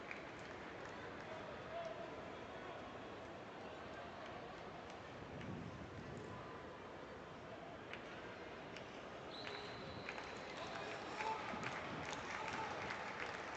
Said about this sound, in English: The Hurricanes fans in attendance clap for Giroux on 2 strikes